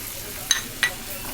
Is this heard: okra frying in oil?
yes